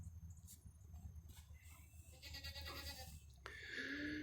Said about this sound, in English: there's a big giant goat,